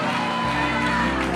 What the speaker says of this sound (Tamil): நல்ல ஒரு கைத்தட்டு, ஒரு அல்லேலூயா சொல்லுங்க பாருங்க